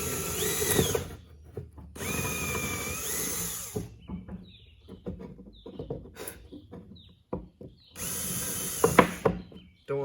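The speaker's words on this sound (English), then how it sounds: "and then drill a hole here." A power drill bores a hole in a wooden hand saw guide in two loud bursts, with quieter clicks, handling noise and a brief third burst between them.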